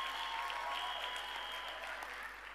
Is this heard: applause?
yes